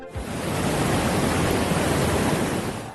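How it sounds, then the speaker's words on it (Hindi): A waterfall at Ajit Kho in Guna pours at full force behind a Shiva temple, a dense, loud, unbroken roar with no voices. "ये खूब खूबसूरत झरना गुना के अजीत खो का है, जो शिव मंदिर के पीछे से पूरे वेग से बह रहा है।"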